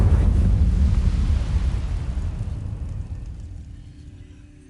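The Incendio fire spell cast in Hogwarts Legacy, a loud roaring whoosh of flame that starts strong with a deep rumble and fades steadily over several seconds.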